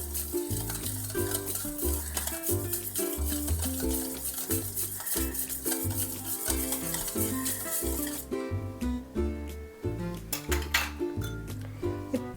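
Curd is beaten with ginger and green chili paste in a bowl, rapid rhythmic clinking and scraping of a spoon whisking close by, steady then slowing and becoming sparser near the end.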